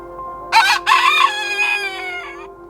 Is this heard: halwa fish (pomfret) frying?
no